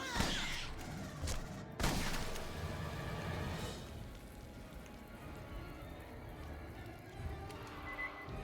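Bursts of gunfire in the video game Aliens: Colonial Marines: a couple of sharp loud volleys early on, then a rattling, rain-like wash of shots and effects, with voices in the game underneath.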